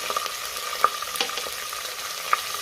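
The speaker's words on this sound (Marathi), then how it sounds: "पुन्हा 1 मिनिटभर चांगलं परतून घेऊया, म्हणजे आलं लसणाचा कच्चा वास निघून जातो।" Ginger-garlic paste sautéed with spiced rice, curry leaves and coriander in a hot pan, giving a steady close sizzle broken by a few sharp spoon scrapes and clicks, with no voices.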